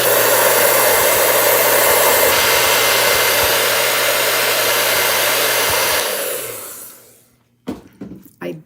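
Hair dryer blowing steadily on a craft project, a loud continuous whoosh with a low hum that runs for about six seconds, then winds down and cuts off, followed by a few faint handling knocks.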